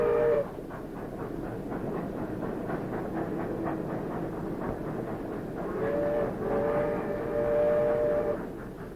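A train running on a banana railway in a tropical country, steady rolling clatter of wheels on track with a horn or whistle tone sounding at the start and again near the end, moderately distant.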